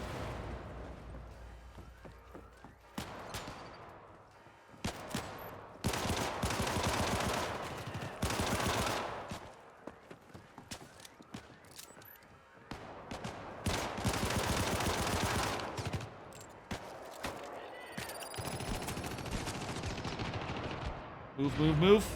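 Gunfire in an Xbox 360 video game, repeated bursts of rapid automatic shots and single cracks coming in loud clusters with quieter gaps between them, with voices talking at times.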